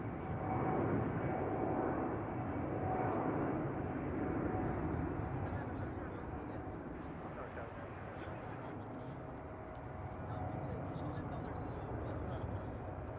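A plane departs San Francisco Airport, likely fresh out of maintenance and carrying no passengers, its engine roar a steady broadband rumble that swells slightly near the end while people talk over it.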